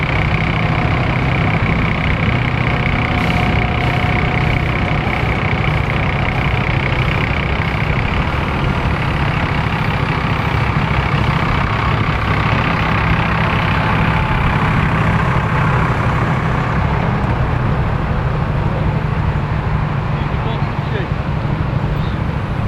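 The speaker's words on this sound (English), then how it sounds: "Great Yarmouth blue bus." A Great Yarmouth blue bus idles with a steady, heavy low diesel rumble that stays loud and constant throughout, alongside other vehicles at a bus event, and someone talks over it.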